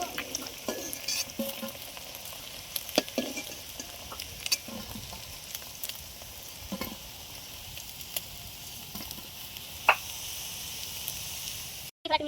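Steady crackling sizzle of fish frying in hot oil, with scattered sharper pops and spatters throughout, close and continuous with no talking.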